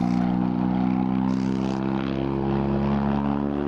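A car engine in the Assetto Corsa racing game on PS4 drones loud and steady, with a propeller-like hum that makes it sound like an airplane, and no talk over it.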